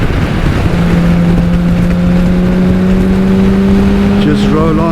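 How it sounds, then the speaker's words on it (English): A BMW K1600B touring motorcycle accelerating on a throttle roll-on without downshifting, a loud steady engine drone with a slowly rising pitch under heavy wind rush, with someone talking over it. "Just roll on, don't even downshift, plenty torque."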